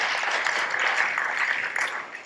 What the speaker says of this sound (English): round of applause for Al